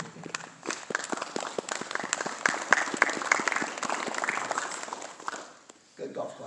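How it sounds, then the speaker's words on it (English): Audience in an evening church Bible class gives a golf clap: soft, scattered claps with light murmuring, steady for several seconds before fading, and a voice follows near the end. "Good golf clap."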